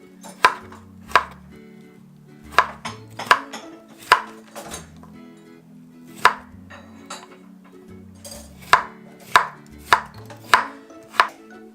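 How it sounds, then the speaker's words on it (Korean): A knife cuts radish into thick julienne strips on a cutting board. Crisp, close chops land in uneven bursts, some quick pairs and some spaced singles, with quiet gaps between them and no voices. "무를 가늘지 않게 채 썰어서 채 썬다는 것보다는 약간 이제 도톰하게"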